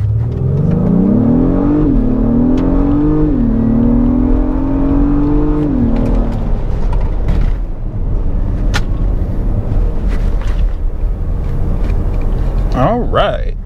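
A 2022 Acura MDX Type S launches from a brake-boost start, its engine note climbing through two upshifts over about six seconds, then settling into a steady, loud drone with speech-like sounds over it near the end.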